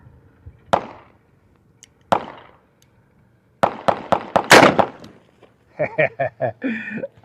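Loud, sharp gunshots from a Smith & Wesson Model 29 revolver with a 6-inch barrel, fired double action one-handed outdoors: two spaced single reports, then a rapid burst of cracks, followed by someone talking.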